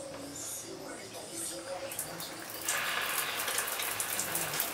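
A valve is opened and water starts running, a soft hiss that steps up into a steady, louder spray partway through.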